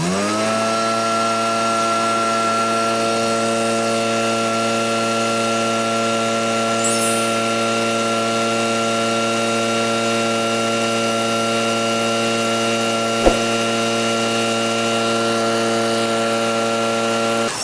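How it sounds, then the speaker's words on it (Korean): A powerful top-grade engine leaf blower roars steadily at full throttle, its strong harmonic drone holding constant for the whole stretch, with a brief click near the end. "두 가지 엔진 블로워 최상급 모델로 사용을 해봤을"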